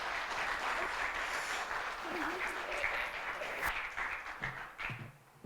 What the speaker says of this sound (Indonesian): Mari kita kasih aplaus lagi buat seluruh pemain drama